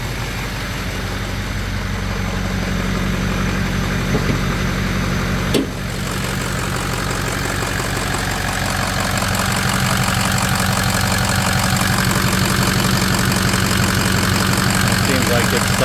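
A car engine idles steadily with a freshly completed exhaust, a low continuous rumble close by with a brief knock near the middle.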